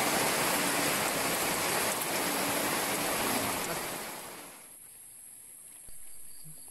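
Steady heavy rain hiss at a farm fishpond that fades partway through as the rain stops, leaving quieter background noise and a faint thump near the end.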